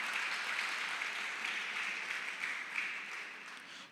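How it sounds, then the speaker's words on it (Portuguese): A church congregation applauds in a steady, even wash of clapping that holds for several seconds and then fades slightly, with no voices standing out. "você pode aplaudir o nome do Senhor Jesus"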